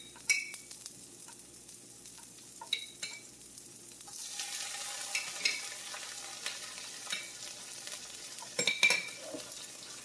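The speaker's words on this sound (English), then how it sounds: "So now we're going to throw in some my favorite, diced jalapeno." Diced jalapeno sizzling and frying in a pan for a zucchini egg scramble, a steady close sizzle with spoon stirring and scraping clinks throughout, growing louder partway through.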